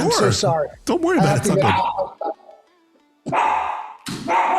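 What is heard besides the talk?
dog barking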